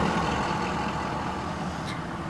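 A car driving along a road in Hanalei, Kauai, heard as a steady, even rumble of engine and tyre noise with no breaks.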